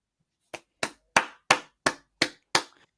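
Seven sharp, evenly spaced hand claps, slow and deliberate, close and clear against silence.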